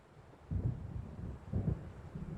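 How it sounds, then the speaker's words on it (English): Low rumbling thunder from an approaching storm at Cauldron Lake in Alan Wake, two soft deep rolls about a second apart over faint wind. "It seems there's a storm coming."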